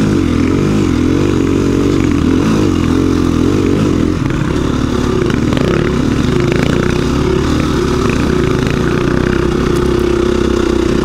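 A KTM 690 Rally Raid motorcycle revs under light throttle on rough ground, a loud, close single-cylinder engine with uneven rising and falling pitch and rattling clatter throughout.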